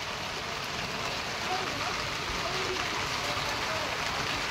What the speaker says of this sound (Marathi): आणि आज इकडे पावसाला पण सुरुवात झाली.